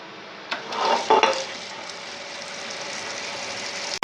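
A wet grinder churns soaked urad dal into batter for ragi dosa, giving a steady swishing, sloshing grind with a few soft knocks early on. It runs alone, close and even, with no talk.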